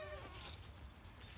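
Goats and kids bleating excitedly around feeding time, their cries overlapping in a busy, continuous chorus at close range.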